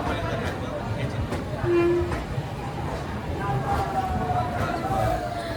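Busy railway platform ambience with a low rumble, crowd murmur and a brief tonal horn-like blast, continuous throughout at moderate level, as a crowded train stands at the platform.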